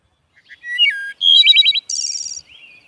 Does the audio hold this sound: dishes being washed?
no